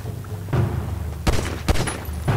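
Gunfire in GTA 5 sounds as a few sharp, loud shots cracking within a couple of seconds over a low rumbling background.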